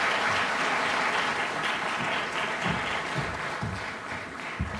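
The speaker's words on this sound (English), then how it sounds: "A warm, big round of applause for His Excellency" Sustained applause from a large conference audience at a summit, a dense, steady wash of many hands clapping that carries on throughout and thins slightly toward the end, with no voices over it.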